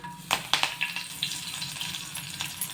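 Curry leaves sizzle in moderately heated oil meant for sesame seeds, a steady frying hiss broken by a few sharp crackles and pops near the start, close up with no talking.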